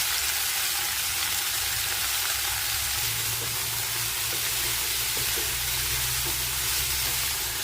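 Chopped leafy greens with minced garlic and chopped green chilli sizzle steadily in a hot pan, a loud, close, continuous hiss of frying with soft stirring and no talking.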